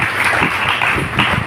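A church congregation claps together during a service, a dense, continuous wash of applause filling the space at steady loudness.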